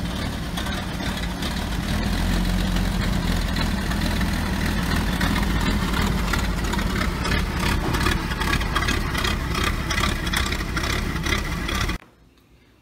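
A 1910 Thomas Flyer's six-cylinder engine idles loudly and evenly for about twelve seconds with a steady low rumble, then suddenly shuts off.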